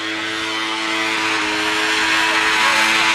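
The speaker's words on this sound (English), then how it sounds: "tune the engine in hopes of finding that sweet spot for the little 277 Rotax" A small Rotax 277 engine on an old hovercraft runs loud and steady at high revs, its buzzing drone holding constant and climbing slightly in pitch, close and alone.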